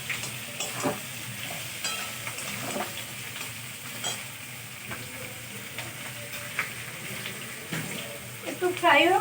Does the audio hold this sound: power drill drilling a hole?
no